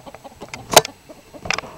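Chickens cluck inside a coop: a run of short, soft clucks with two louder, sharper squawks standing out near the middle and end, close by, with no talking.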